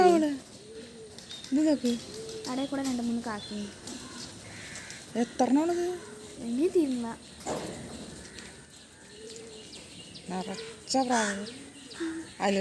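Pigeons cooing nearby in repeated soft, rolling coos, alternating with a person talking in a kitchen setting.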